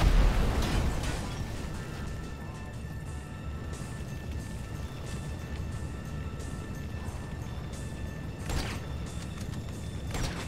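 Missile blast from an RC tank in GTA 5, a heavy explosive burst at the start settling into a long rumbling wash of debris and mechanical noise, with a second sharper bang near the end.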